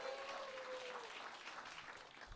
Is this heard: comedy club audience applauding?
yes